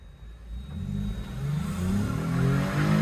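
A car with a 3GR 3000cc engine revs, its low engine drone building steadily louder over a few seconds, close by, with no talk.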